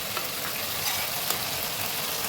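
Chilli chicken with soy sauce sizzling steadily in a hot pan as it is stirred, a continuous broadband frying hiss with faint scraping strokes, close and even, with no talking.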